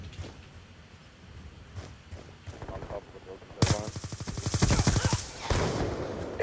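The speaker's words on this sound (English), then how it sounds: "Sentry gun ready to deploy." Sentry gun firing in a multiplayer first-person shooter: a sudden loud burst of rapid automatic fire starts midway and rattles on steadily to the end, with quieter game sounds and faint talk before it.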